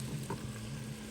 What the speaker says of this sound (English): Adding tomato.